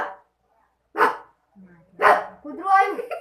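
A person imitates a dog barking during a challenge game, with a few separate bark-like bursts, fairly close and loud, with short pauses between them.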